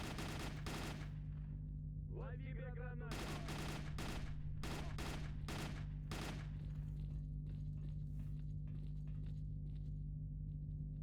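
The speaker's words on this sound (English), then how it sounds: "Uh-oh, that's a grenade." Gunfire in the video game S.T.A.L.K.E.R.: Call of Pripyat, loud repeated bursts of automatic shots with short gaps, a brief ringing metallic tone, then lighter scattered shots and thuds tailing off, over a constant low hum.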